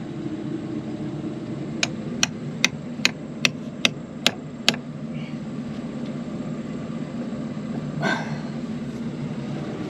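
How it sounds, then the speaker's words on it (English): Eight sharp, evenly spaced hammer blows drive a chisel into a tight front corner during rainy-day repairs, ringing out over a steady low rumble, followed later by a brief scraping burst. "Let me try to drive the chisel on this front corner, maybe."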